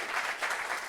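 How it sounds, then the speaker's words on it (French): Applause from a studio audience on a French-language talk show set, a brief dense wash of many hands clapping at moderate level, steady without distinct individual claps. "Applaudissements pour ça, s'il vous plaît."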